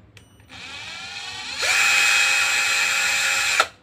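Orion CD2100B cordless drill with an adjustable RPM setting, running alone with no talk: a steady whine starts softly, then revs up louder and holds for about two seconds before cutting off.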